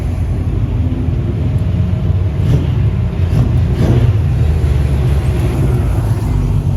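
A Mitjet 1300 race car comes in off the track at a practice session: a steady, loud engine drone holds throughout with slight swells in revving and no voices over it.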